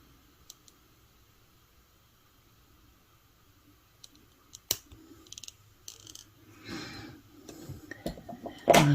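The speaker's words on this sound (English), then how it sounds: "I'm going to take my cutters and I'm going to cut off and leave about 1/4 of an inch of the pin." Wire cutters snip through a jewelry head pin, giving one sharp, close click against near silence, followed by faint handling rustles.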